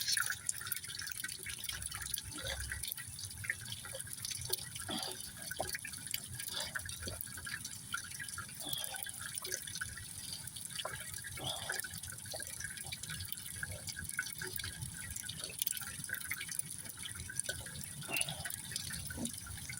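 Tap water running steadily from a faucet before a water bottle is filled, a continuous close hiss with scattered drips and splashes throughout, no talking.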